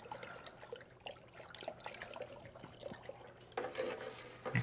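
Liquid hydroponic nutrient solution pours into a 6 gallon bucket, a soft, steady trickle and splash close by that grows fuller toward the end.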